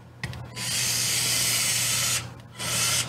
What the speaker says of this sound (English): And then get it with the screwdriver.